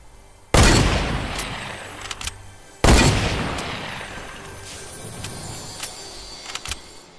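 Gunfire in the video game Zombie Magpie, two loud, sudden blasts a couple of seconds apart, each followed by a long fading rumble, with lighter metallic clicks and rattles afterward.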